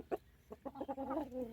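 Chickens clucking in a small pen where roosters are kept with the hens: a few short clucks, then a rising, drawn-out cackle, close by and fairly quiet.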